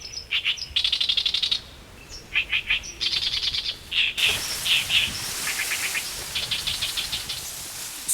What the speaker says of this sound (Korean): 저 소리가 우리 이제 여름철 새 중에 하나인데 갈대밭에다 둥지를 틀어요.